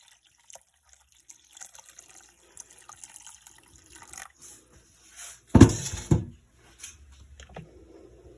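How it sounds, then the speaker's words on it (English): Soup stock made from root vegetables is strained, with faint drips and trickles building to a brief close splashing pour of liquid, then a few quieter drips. "I'm just straining the soup stock here."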